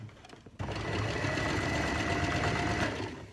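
A sewing machine stitches the armhole of a wool coat in one steady, close run of about three seconds, starting abruptly after a brief quiet pause.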